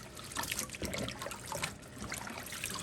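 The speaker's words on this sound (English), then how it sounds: "I'm gonna dump our grape leaves in the sink here. Just give them a good washing." Water runs and trickles in a kitchen sink while grape leaves are washed, a steady splashing close by with no talking.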